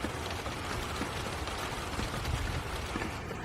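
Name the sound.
rain picking up during a thunderstorm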